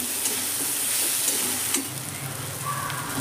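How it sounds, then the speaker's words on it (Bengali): Mixed vegetables, such as carrots and raw peanuts, fry and are stirred in a pan with a little oil, making a dense, steady sizzle with a few soft stirring scrapes near the start. "দেখুন সবজিটা আমার খুব ভালো করে নাড়া হয়ে গেছে।"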